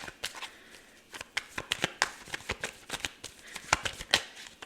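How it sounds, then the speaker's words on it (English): Tarot cards are shuffled and pulled close by, a quick irregular run of crisp flicking snaps and riffles with brief pauses, no talking. "Let's pull some cards and let's see."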